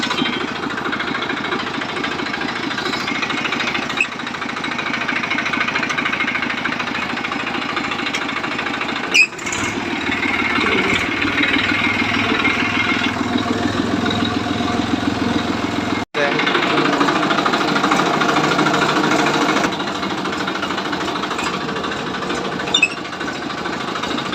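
A farm tractor engine runs at a steady, loud, rhythmic chug throughout, with a couple of sharp clunks, and a voice can be heard at times beneath the engine.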